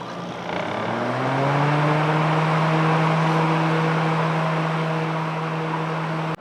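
A Coleman Mach 8 rooftop air conditioner's blower fan, with a newly replaced motor and squirrel cage, spins up after about a second into a loud, steady hum with a clear tonal whine, running close and alone.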